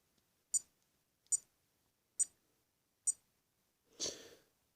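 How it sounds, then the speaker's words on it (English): Four short, sharp electronic beeps from a Timex Ironman Triathlon digital watch on button presses, roughly evenly spaced, followed by a brief breathy rustle at the end. "when you have the hourly chime on, then it beeps on every button press"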